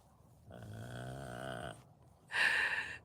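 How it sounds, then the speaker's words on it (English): A dog snores loudly up close: one long, rough, rumbling inhale, a short pause, then a harsher, snorting breath, in a quiet room. "Is your guys' dogs as loud of snorers as mine?"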